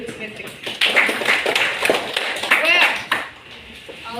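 Classmates clap together in a secondary school classroom, a short burst of mixed clapping under a teacher's voice and background chatter.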